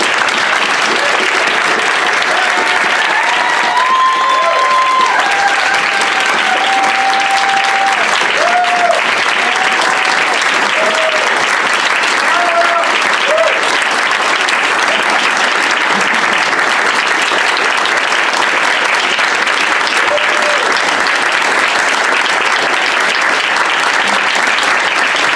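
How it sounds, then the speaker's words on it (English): Sustained audience applause fills a large gathering celebrating the Free State Project reaching its signer goal, a dense steady wash of clapping lasting the whole stretch with faint tonal sounds and voices underneath. "So can you please join me again and just really give me an applause?"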